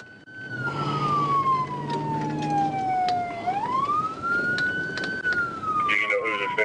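A police car siren wails during a high-speed dashcam chase, a loud rising and falling tone sweeping slowly down then back up, joined briefly by other chirping siren tones over engine rumble.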